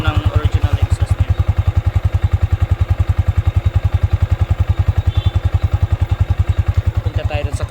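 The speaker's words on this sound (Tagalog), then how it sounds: "Ito yung tunog ng original exhaust niya." Yamaha Sniper 155 VVA motorcycle on its original stock exhaust idles nearby with a steady, rapid low putter of even pulses, loud and constant throughout with a brief faint mechanical clatter.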